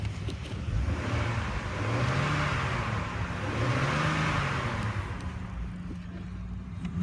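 A 2004 Chevrolet TrailBlazer LT engine idling, then revved up and back down twice in smooth rising and falling swells, recorded close with a steady rumble underneath and no talk.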